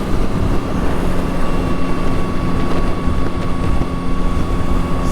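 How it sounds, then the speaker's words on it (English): A strong gust of wind blows sideways across the microphone outdoors beside a parked motorcycle, a loud, continuous roaring buffet that stays steady throughout, with no voices. "that's a nice blast of wind, blowing sideways"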